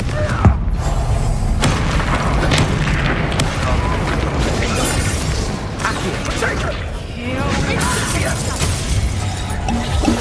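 Fiery Confringo spell blasts in the Hogwarts Legacy video game, a dense run of booming, crackling explosions and battle noise that stays loud and continuous throughout, with scattered voices mixed in.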